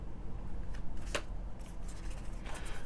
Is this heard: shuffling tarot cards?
yes